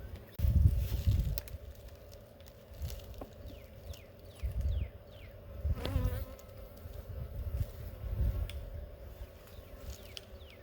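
Honey bees buzz steadily around an open hive during an inspection, with several individual bees zipping close past in short rising and falling whines over a constant low hum of the colony.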